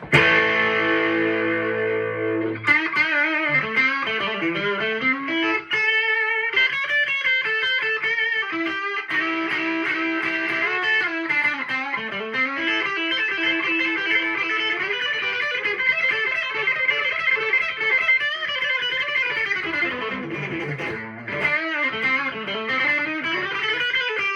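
A 1986 Squier Bullet electric guitar with overdrive on the bridge pickup plays bright, gritty riffs and ringing sustained notes, continuous and up close, with no talking.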